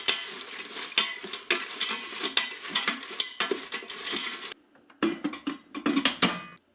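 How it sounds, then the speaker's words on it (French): A wooden spoon stirs and scrapes food in a multicooker, giving a quick, busy run of clattering and scraping strokes with a soft sizzle, then a short pause before a few more strokes. "On prend une cuillère en bois et on mélange."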